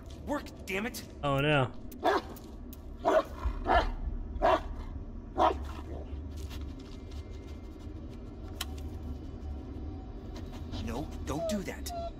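A dog in the Blair Witch video game gives a series of short yips and barks near the start, amid intermittent clicks and footsteps, while someone talks over it.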